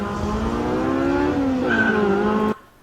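A Honda Civic speeding on a public highway, its tires squealing in a loud, sustained wavering screech over engine noise that cuts off abruptly.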